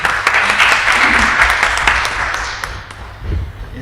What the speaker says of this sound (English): let's welcome him with warm applause